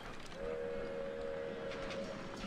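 Train in SteamWorld Build, a sustained horn-like whistle tone over low rumbling rail noise, moderately loud and steady, with no talk.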